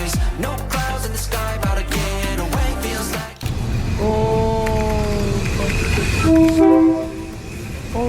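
A train rumbles past very close by in Thailand, loud and steady, with a long blaring horn and rolling wheel noise over a heavy low roar.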